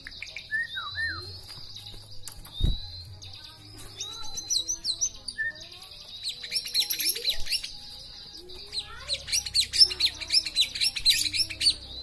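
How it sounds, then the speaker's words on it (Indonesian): Rich, varied whistles and chirps of a white-rumped shama trill continuously, with melodic phrases growing busier and louder toward the end amid background bird calls. "Biasa murai batunya, suaranya, isiannya mantap-mantap teman-teman."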